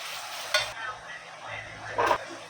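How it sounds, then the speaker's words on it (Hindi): Salted onions fry in a pan until they turn pink. A soft sizzle runs throughout, broken by a couple of louder scraping stir strokes. "अभी प्याज को पिंक करेंगे, गुलाबी करेंगे।"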